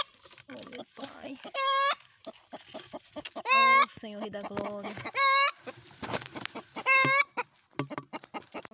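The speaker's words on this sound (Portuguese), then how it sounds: "tem uma galinha aqui, ó, aqui no quartinho" A brooding hen in a small room clucks repeatedly, with several loud, drawn-out squawking calls rising over nearby conversation.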